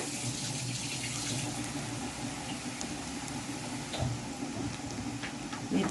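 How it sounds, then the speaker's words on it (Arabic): Water pours steadily into a pot of rice on the stove, a continuous rushing, splashing flow that runs unbroken from start to finish. "نبدأ نزود المية بتاعته."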